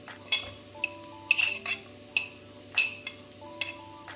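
Chopped onion going into oil for a lentil curry, a light sizzle under several sharp clinks and scrapes of a utensil against the pan, close and fairly quiet with no speech.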